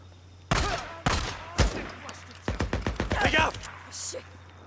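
Gunfire in the open-world survival game Days Gone: a few loud single shots, then a fast rattling burst of rapid rounds, close and sharp over a low steady background hum.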